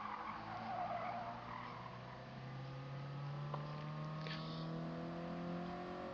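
A race car in a racing video game at Autopolis International drones with a sustained engine note, with short tire squeals and skids breaking through partway as it slides through the corners.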